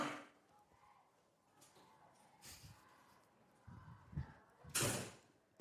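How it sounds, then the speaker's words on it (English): A gym door opens and closes loudly during a football game broadcast, faint creaks and thumps building to a sharp bang near the end, with low crowd murmur in the background. "The door always seems to be a little loud."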